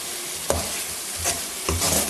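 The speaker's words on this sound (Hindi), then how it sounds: "ये जो हमारा बैंगन है वो इसके अंदर फ्राई हो जाए।" Brinjal frying in a pan, a steady sizzle with a few distinct scraping stirs spaced through it, close and fairly clear, no voices.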